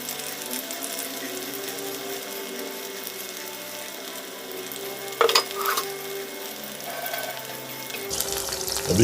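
Chicken pakora pieces fry in hot oil over a medium gas flame, giving a loud, steady close sizzle with a brief burst of bubbling and scraping as pieces are moved.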